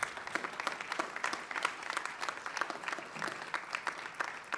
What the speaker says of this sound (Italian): chiedo anche per lui un grande applauso